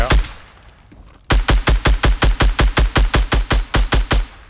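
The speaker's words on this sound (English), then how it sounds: "Shooting the tree out." Rapid automatic gunfire in a squad-based shooter game, aimed at a tree: after a brief single shot, a steady close burst of about fifteen evenly spaced loud reports fires in quick succession with no speech.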